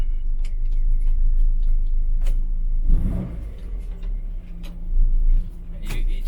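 A Morris Minor car idles and rumbles steadily at close range while being parked on a drive, with a brief louder surge of engine noise midway.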